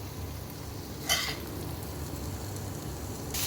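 Ivy gourd and masala fry in a pan over a medium flame, a faint, steady sizzle running throughout, broken by one brief metallic clink of a utensil against the pan.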